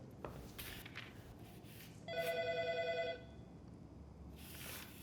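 A telephone rings once in a quiet indoor scene, a bright trilling bell burst lasting about a second, set against faint room noise.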